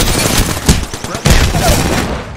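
Rapid bursts of automatic gunfire in Apex Legends, loud and close, with dense overlapping shots and a couple of heavier thumps, continuous through the whole moment.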